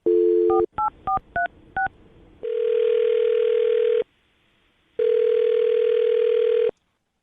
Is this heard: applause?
no